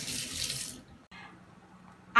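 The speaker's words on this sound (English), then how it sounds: "I am going to wash my hands again" Running water gushes from a kitchen sink tap as hands are washed, first a loud full splash, then a quieter, thinner flow with light handling noises, ending in a brief sharp clunk.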